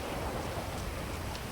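Steady, even rain falling in the video game GTA Online, a continuous soft hiss at moderate level throughout.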